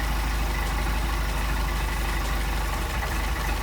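A Mercedes 190SL engine with Solex carburetors idles after carburetor adjustment, a steady, loud, even rumble running throughout with a slight uneven pulse near the end and no talking.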